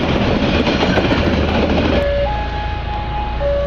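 A train passes close by with a loud steady rumble and rattle of rail cars, a long tonal whistle-like note sounding in the second half, no one speaking.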